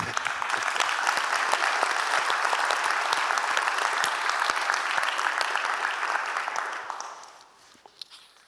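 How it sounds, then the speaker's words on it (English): Sustained audience applause at a film award ceremony in Berlin, dense and even clapping that holds steady for about seven seconds before fading out, with a few stray claps trailing at the end. "a round of applause"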